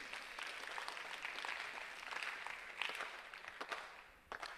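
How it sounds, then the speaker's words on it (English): A high school freshman orientation audience applauds the administration team, a faint, steady wash of clapping heard from a distance that thins out toward the end. "Let's give a hand clap for our administration team."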